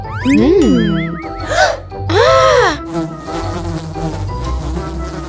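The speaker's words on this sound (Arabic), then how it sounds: "هذه خلية نحل، بالتأكيد يوجد عسل بداخلها" Cartoon bees buzzing around a honey-filled beehive, loud swooping buzzes with sliding, wobbling pitch in several bursts, followed by a denser, steadier hum.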